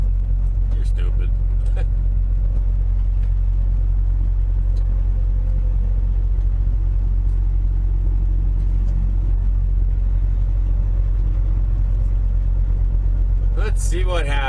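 Cab of a truck rolling down a highway near Abbotsford, Wisconsin, a deep steady engine and road rumble throughout, with a voice briefly speaking near the start and end.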